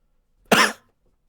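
A voice actor performing an audiobook reading lets out one sharp, close cough, isolated in silence and lasting under half a second.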